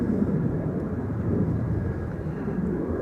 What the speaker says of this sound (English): is a 737 to Vienna on the move and an A350-1000 will line up there